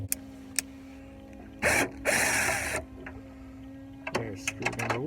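Short whirring bursts from a power drill fitted with two extensions, removing screws from a Jeep Liberty tail light, two sustained runs followed by several quick stuttering pulses, heard up close over a steady low hum.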